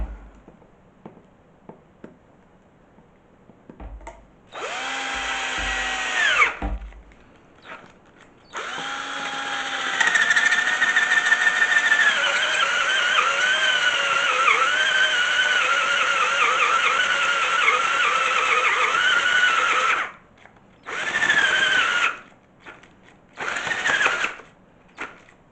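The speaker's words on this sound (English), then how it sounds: "So we're going to drill the second hole on the back side here" A power drill bores a hole into poly tubing for a homemade fish-attracting tree for a pond, running in a short burst and then a long steady whine with brief stops, close and alone.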